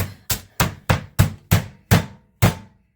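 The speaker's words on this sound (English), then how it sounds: "you want to use your solid side of your chicken pounder or your meat pounder, hammer" Eight sharp, heavy thuds of a meat pounder striking chicken, evenly spaced about every third of a second, loud and close with no talking.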